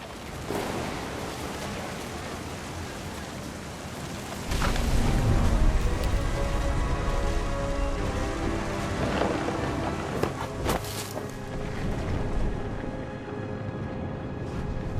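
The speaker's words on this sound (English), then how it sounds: "Thunder sounded much too close and full of angry power." Thunderstorm from the video game What Remains of Edith Finch: steady, dense rain with a heavy rumble of thunder rolling in mid-way and sharper cracks later, loud and continuous with no talking.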